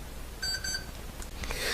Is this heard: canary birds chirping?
no